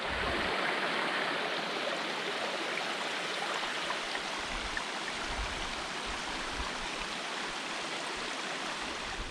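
A small waterfall beside a winter hiking path on Ben Nevis, Scotland, roaring steadily as a dense, continuous rush of falling water, close and constant throughout with no voices.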